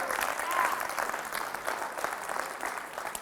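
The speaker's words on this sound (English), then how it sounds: "Everyone give him a round of applause" High school athletes at Fossil Ridge give a loud, dense round of applause for a fellow student called on stage, the clapping steady and close throughout with some crowd voices mixed in.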